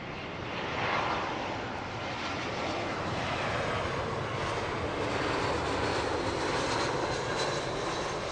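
An airliner landing at Heathrow Airport, its engine roar loud and continuous, swelling slightly and holding steady as it passes.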